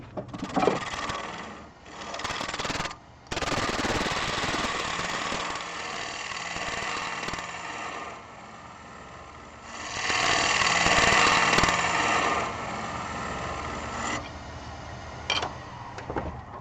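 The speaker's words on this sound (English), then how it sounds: "I'm going to use a scraper." A hand scraper shapes an elm burr spinning on a wood lathe, giving a continuous close whirring scrape that swells and eases in loudness as the cut changes, with no talking.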